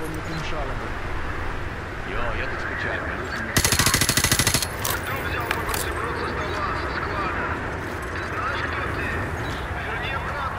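A rapid automatic weapon burst in the video game Modern Warfare 2 Remastered, about a second of loud, rattling fire over steady background noise and game ambience, with voices talking.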